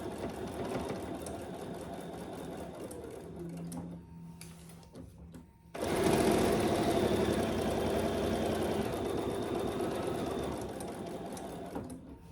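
A sewing machine bastes down the sides and across the bottom of a Lemonza clutch, running in a steady mechanical whir, pausing briefly in the middle, then resuming louder and closer.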